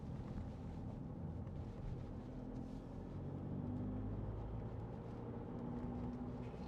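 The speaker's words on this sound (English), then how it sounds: "Love this diesel engine." Skoda Yeti 2.0 TDI diesel SUV on the move, a low steady engine drone and road rumble heard from inside the cabin, faint and continuous with light wind buffeting and no talk.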